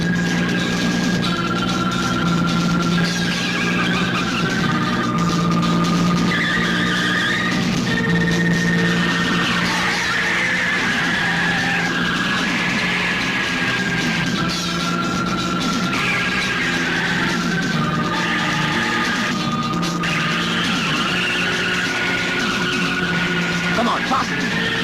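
A car speeds through a chase in a 1988 Hindi action film, engine roaring continuously while tires squeal and skid in long wailing sweeps, loud and close, with dramatic score and occasional shouting.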